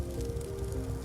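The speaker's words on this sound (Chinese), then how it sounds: "有声音了着火的声音。" A fire sound effect in an Unreal Engine 4 game scene plays as a steady, dense crackling hiss, loud and unbroken for about a second with no talking.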